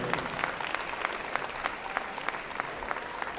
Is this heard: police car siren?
no